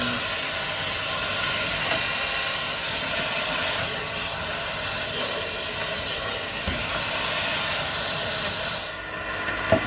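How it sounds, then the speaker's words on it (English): Compressed air at 175 pounds of pressure blasts through a basement air duct during cleaning, a loud steady roaring hiss that runs almost the whole time, then drops away abruptly near the end. "175 pounds of air pressure. So it's really stirring stuff up."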